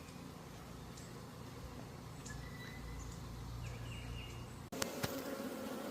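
Honeybees buzz steadily around backyard hives, a continuous outdoor drone with a few brief louder knocks near the end.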